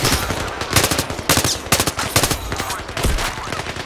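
Rapid bursts of machine gun fire in a war video game with tanks, loud and continuous in repeated volleys, with explosive cracks throughout.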